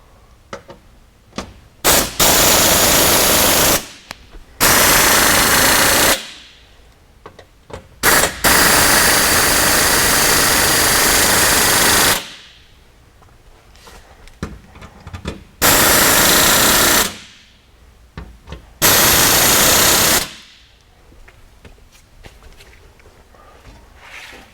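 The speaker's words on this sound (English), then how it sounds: "So we can just go ahead and, like I say, tighten everything down." A power tool drives skid plate bolts tight during a Ricochet skid plate install on a Can-Am X3 XRS. It runs in several loud buzzing bursts of one to two seconds each, separated by short quiet gaps, with no speech.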